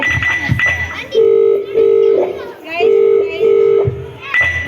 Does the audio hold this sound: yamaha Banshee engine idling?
no